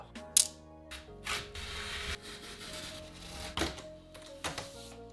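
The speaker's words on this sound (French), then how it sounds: "maintenant ce qu'il reste à faire, c'est de découper cette base à l'aide d'un cutter" A utility knife cuts through a paper base for a papercraft model: faint scraping and scratching strokes with small clicks, close, over a steady quiet musical background.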